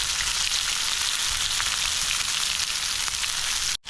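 Food sizzles and fries steadily in a pan at a wild campsite in heavy rain, a loud, close, continuous crackling hiss that cuts off abruptly at the end.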